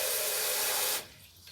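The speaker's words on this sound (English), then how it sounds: "I'm just going to put some water in a jug" Water poured into a jug, a steady close hissing rush that stops abruptly after about a second, leaving a quiet room.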